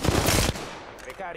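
Alternator SMG fire in Apex Legends, a loud close burst of rapid automatic shots for about half a second, then quieter scattered game sounds and faint trailing noise.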